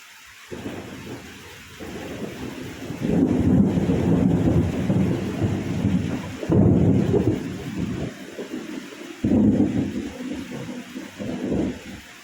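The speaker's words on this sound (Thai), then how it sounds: "มีฝนมาบ้านเราแล้ว" A thunderstorm rolls in with heavy rain, loud rumbling thunder swelling in several long waves over steady rainfall and some wind buffeting the microphone, with no voices.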